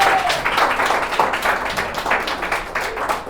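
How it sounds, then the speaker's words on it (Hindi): Audience applause in a Hindi-language live show, steady dense clapping from a crowd as a performer walks onto the stage, loud and sustained throughout. "जब तक वो स्टेज पे आते हैं तालियां बजती रहनी चाहिए।"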